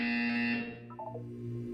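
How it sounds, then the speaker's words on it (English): Electronic buzzer in the Portal 2 test chamber sounds as a steady, harsh tonal drone that drops and fades near the end, alone without talk. "You will hear a buzzer."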